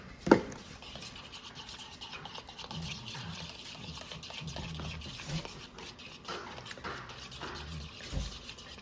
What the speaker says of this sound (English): we're going to add some chives in there. I'm going to mix those in.